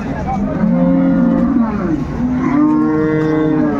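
A dairy cow lows at a village cattle market in Dinajpur, two long, deep moos close by and loud over a busy market murmur.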